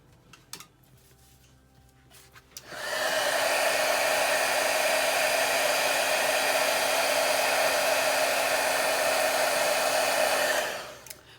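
A heat tool for embossing powder on a stamped card switches on after a few faint clicks and blows with a loud, steady whirring hiss for about eight seconds before cutting off.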